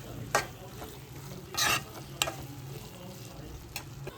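Curry being stirred in a pan on the stove, a soft steady sizzle beneath a few distinct scraping strokes of a spoon, the longest one in the middle, with short clicks around it.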